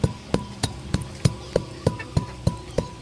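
Eggshells pounded into powder in a mortar, heard as a steady series of about ten dull, evenly spaced thuds, close and clear with no talking.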